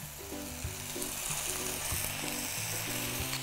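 Steady frying sizzle as tamarind water is poured into a hot pan for betel leaf rasam, with a dense hiss throughout, while tonal music plays underneath the cooking noise.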